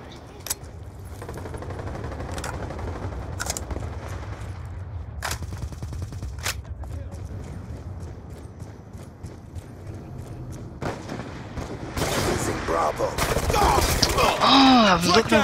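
Scattered single gunshots from a teammate firing in Black Ops 2 multiplayer, sharp cracks spaced a second or two apart over low game ambience, building into a louder burst near the end.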